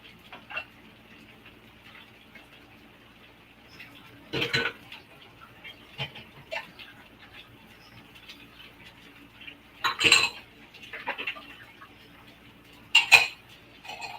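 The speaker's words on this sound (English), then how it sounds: "I have to clean my little tiny bit of dishes" Dishes washed by hand in a home kitchen: scattered clinks and clatters of plates and cutlery, a few sharp louder knocks spaced apart over quiet background, no talking.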